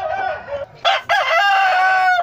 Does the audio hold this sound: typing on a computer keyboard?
no